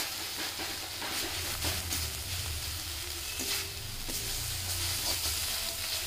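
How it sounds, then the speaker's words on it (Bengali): Masala spices frying in a pan for a masala crab dish, a steady close sizzle with occasional stirring scrapes throughout. "আমার মশলাটা কষে গেছে"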